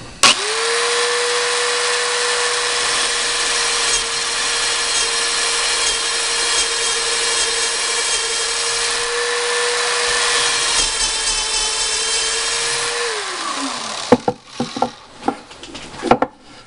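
A homemade drill press with the bit cutting into a tall workpiece gives a steady, loud whine held for about thirteen seconds, then spins down, followed by a few sharp knocks and clatters.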